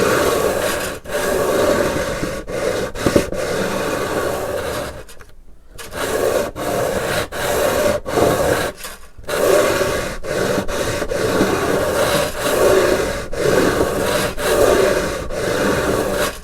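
Frets on a 1970s Crestwood 2064 guitar being sanded, a continuous close rasping rub in long strokes broken by a few short pauses, with no voices over it.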